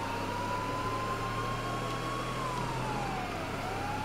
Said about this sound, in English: There's four police cars after me, yo. Four police cars, you know.